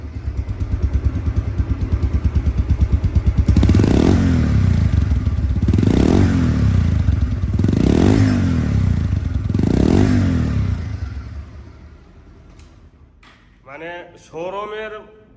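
Bajaj Pulsar double disc motorcycle in showroom condition, its engine running steadily with four strong revs rising and falling in a regular rhythm, close and loud, before dropping to idle as a voice speaks near the end.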